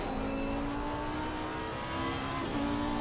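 Pink Lamborghini GT3 racing at Silverstone in Assetto Corsa Competizione, its engine droning steadily at high revs with a slight rise near the end, loud and close, no voices.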